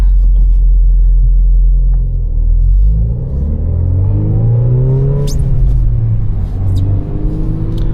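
A manual Volkswagen Golf R engine rumbles loud and close, rising in pitch as it revs and accelerates, with a deep steady drone underneath.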